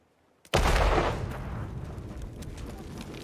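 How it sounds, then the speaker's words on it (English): A huge explosion boom in the stealth video game Hitman 3 hits suddenly and loud, then trails off into a long, rumbling roar that fills the rest of the moment. "Didn't you hear the explosion? It was this huge boom!"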